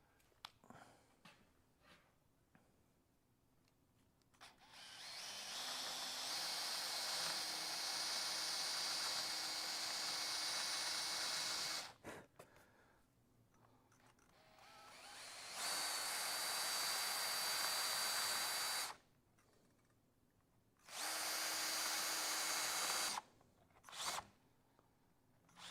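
Handheld power tool, likely a router, fitted with a smaller bit and cutting into the corners of a wooden Morris chair, three sustained loud whining bursts of several seconds each, separated by quieter gaps with brief handling noises.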